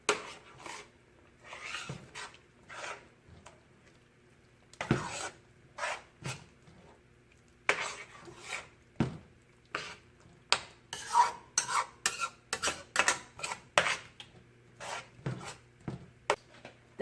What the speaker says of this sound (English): Now you're going to want to spread this around, stir it up so that it can start melting